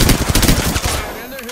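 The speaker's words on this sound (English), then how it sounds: "Fire! Taking fire!" Rapid automatic gunfire in the video game Apex Legends rattles loud and close in dense bursts, then tapers off into fainter scattered shots and a trailing whine.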